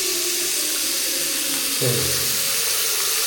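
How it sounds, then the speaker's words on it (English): A bathroom faucet in a master bath runs with a steady hiss of water that shifts in tone partway through as the flow changes. Someone says a single word over it. "And there's the faucet."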